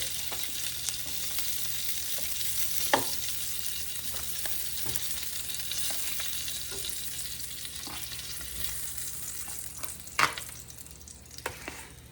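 Browned, fully cooked sausages sizzle steadily in a pan, a continuous broad frying hiss with a few sharp clinks and scrapes of utensils scattered through, including louder knocks near the middle and end; no talking.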